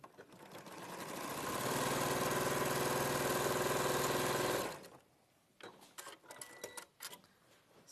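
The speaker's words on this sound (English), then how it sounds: "and then we'll sew the 2 halves together." A sewing machine runs steadily for a few seconds as it stitches two fabric halves together, then stops, leaving quiet handling noises.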